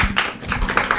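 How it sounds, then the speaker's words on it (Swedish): An audience at a seminar applauds, a brief burst of close, rapid overlapping hand claps, loud and dense, with no speech over it. "Applåden var riktad till Ann-Therese."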